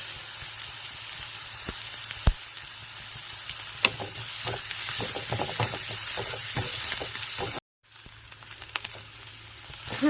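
Curry leaves tempering in hot oil for a banana blossom thoran, a continuous close crackling sizzle with sharp spattering pops, briefly cut out before resuming.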